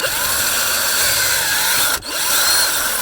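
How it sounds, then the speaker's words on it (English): A power drill whirs steadily and loudly, cuts out for an instant, then spins back up. "Why isn't my drill spinning?"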